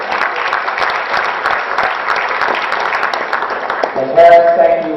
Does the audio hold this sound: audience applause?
yes